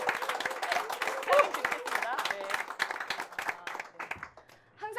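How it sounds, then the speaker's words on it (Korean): An audience claps at a live book talk event, a dense, close patter of individual hands that thins out toward the end, with a voice briefly speaking over it. "박수 치십시오 편하게"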